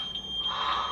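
A censor beep in a film bleeps out a line: a short, steady, high-pitched electronic tone lasting under a second, with a soft muffled background underneath.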